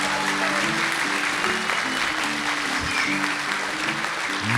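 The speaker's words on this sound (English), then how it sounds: "So please, a round of applause for those wonderful listeners at home." A studio audience applauds steadily throughout a live radio show recording, with a continuous wash of clapping under soft background music.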